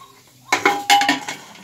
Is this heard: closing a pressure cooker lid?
yes